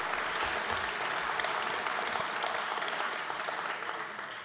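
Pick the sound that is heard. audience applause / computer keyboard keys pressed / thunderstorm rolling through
audience applause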